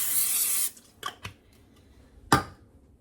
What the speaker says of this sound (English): So I'm going to go ahead and spray my crock